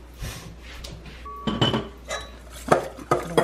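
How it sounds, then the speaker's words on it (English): Whisk clinking against a bowl while salt and pepper are mixed in, giving irregular light metallic taps and scrapes, close and fairly soft, with several sharper clinks toward the end. "then you're gonna whisk all that together"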